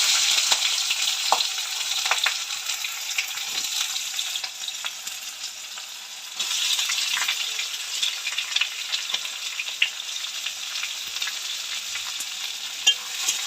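Chopped onion fries in oil with whole garam masala of cardamom, cinnamon and bay leaf, giving a steady close sizzle with occasional stirring clicks and a louder surge midway.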